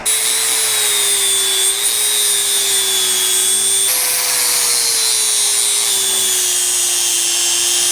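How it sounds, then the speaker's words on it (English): Flap disc on a hand grinder coping the end of a steel roll bar tube for a Land Rover LR4 truck, a steady loud whine with a slight pitch dip near the middle, running continuously and close without talk. "Now I'm just gonna kind of cope this by hand with a flap disc."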